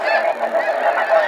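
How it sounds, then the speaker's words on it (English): Snow geese honking loudly and close during a hunt, a dense overlapping chorus of calls throughout. "We are hunting snow geese today, and it is insane."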